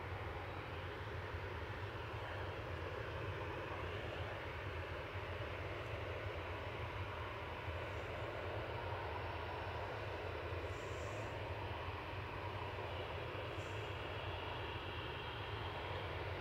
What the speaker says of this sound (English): Ryanair coming in from Belfast, operated by Ryanair UK, 737-800 GRUKI, flight 190.